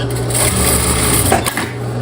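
A sewing machine stitches the pocket lining of a pair of jeans, running steadily and loudly close up with a constant whirring hum for the whole stretch.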